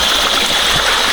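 Forest stream water rushing steadily and loudly, a continuous broadband flow with no break, heard alone and close.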